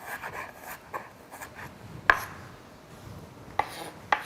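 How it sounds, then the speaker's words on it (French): A knife finely chops shallot on a board, with quiet irregular taps and scraping strokes and a few sharper, louder knocks, close and alone. "Voilà, donc on va ciseler l'échalote."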